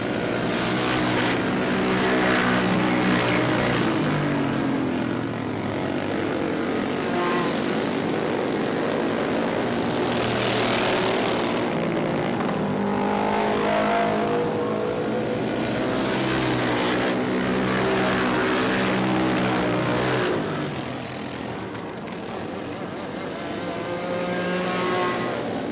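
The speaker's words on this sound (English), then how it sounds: "warm up some engines." Go-kart engines warm up on a race track, loud buzzing motors droning and rising as karts pass close in waves, continuous for the whole stretch with no talking.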